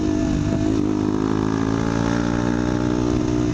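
A KTM Duke 200 motorcycle fitted with an Arrow exhaust runs at a steady, throaty engine note close by, holding a near-constant pitch with a slight rise early on, with no talk over it.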